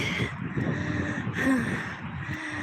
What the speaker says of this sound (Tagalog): Rinig nyo ba yung hingal ko?